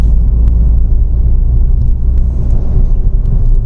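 Inside a 2020 Maruti Suzuki Vitara Brezza BS6 pulling in fifth gear, a loud, steady low engine and road rumble fills the cabin with a few faint ticks.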